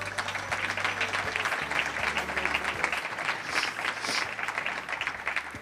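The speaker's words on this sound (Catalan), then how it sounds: "però l'aplaudim també." An audience claps for an absent candidate at a Compromís candidate list presentation event in Novelda, steady continuous applause with a low hum underneath throughout.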